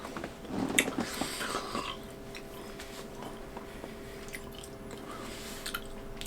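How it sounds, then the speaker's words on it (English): Quiet, close chewing of three-day-old homemade biltong with a crusty outside, soft moist bites and mastication clearest at the start, then fading to faint mouth sounds. "Okay, I'm gonna take a bite."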